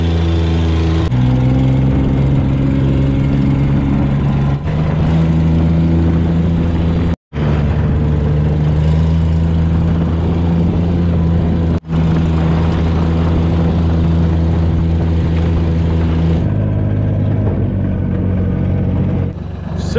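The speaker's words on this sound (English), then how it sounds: "our John Deere Gator is straight piped" Straight-piped John Deere Gator utility vehicle engine running steadily and loud throughout, a deep rumbling idle with a brief shift in pitch near the end, heard up close on a muddy farm.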